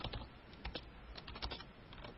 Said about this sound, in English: hammering away on his keyboard, that everybody can hear